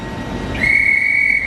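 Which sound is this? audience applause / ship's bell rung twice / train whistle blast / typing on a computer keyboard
train whistle blast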